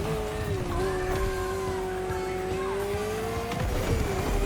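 Ferrari supercar engine from The Crew Motorfest, a thin, buzzy, high steady drone with faint tire squeal under it. It stays continuous and close throughout.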